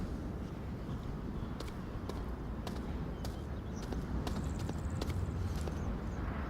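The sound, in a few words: footsteps in video game Onward VR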